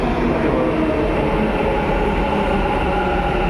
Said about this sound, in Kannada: ನೋಡ್ರಿ, ಮೆಟ್ರೋ ಬಂತು ಇವಾಗ ಜಸ್ಟು